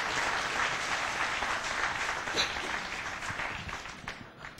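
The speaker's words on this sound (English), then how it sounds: "can we please give our panel a very big round of applause" Conference audience applauding a panel in a large hall, a broad, even wash of many hands clapping, somewhat distant, gradually fading toward the end.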